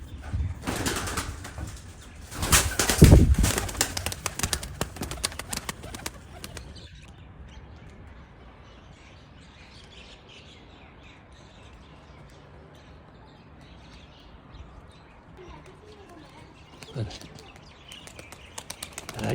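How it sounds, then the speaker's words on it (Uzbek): A brief, loud burst of a Takla pigeon's wings flapping hard in flight comes near the start, then fades into quieter outdoor ambience with voices talking in the background. "Qush qattiq uchyapti mana"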